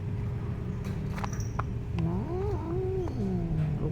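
A hostile cat confronts an unfamiliar cat with a long, low, warbling growl that rises and falls close to the microphone, preceded by a few faint clicks and shuffles, with no voices.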